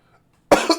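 A man's sharp, close cough comes in two quick bursts right after a near-silent pause.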